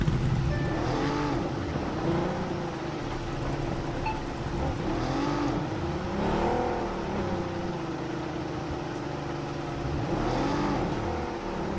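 A vehicle drives in PUBG Mobile, its engine droning steadily for about twelve seconds with rising and falling revs, accompanied by game sounds.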